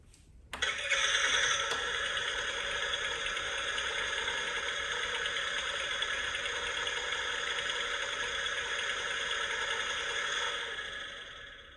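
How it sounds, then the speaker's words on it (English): An American Girl toy vehicle plays an electronic engine sound effect, a steady synthetic tonal hum that starts with a click, holds evenly for about ten seconds, then cuts off, fairly quiet and heard with no talking. "So it makes the engine noise like that,"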